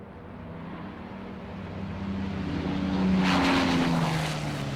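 A low-flying bomber banks around to port over a Luftwaffe airfield during the Operation Jericho raid, its steady propeller-engine drone rising and swelling in loudness as it passes close.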